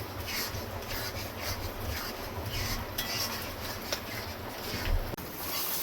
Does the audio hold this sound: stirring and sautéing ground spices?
yes